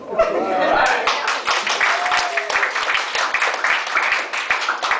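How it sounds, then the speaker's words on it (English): An audience claps for Fabio, a lively patter of hand claps mixed with laughter and chuckles, while people talk close by over the clapping. "Keep your applause going for Fabio."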